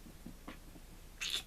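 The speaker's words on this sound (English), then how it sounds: "that's my cats fighting." Cats fighting indoors, faint scuffling and low growls that end in a sharp, high hiss or squeal, heard fairly distant and brief with no talk.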